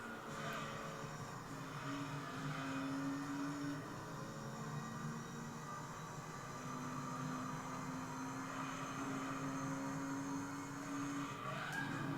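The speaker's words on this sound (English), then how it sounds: "Not only V10 engine but also straight cut gears." A V10 race car engine with straight-cut gears drones steadily in a video game, its pitch sliding up and down through gear changes, with a whining gear tone carrying through the whole stretch.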